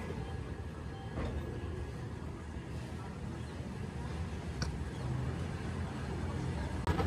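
A petrol tanker train pulls out of a station, a steady rumbling roll close by with a few faint clicks and clanks over it and a constant background hum.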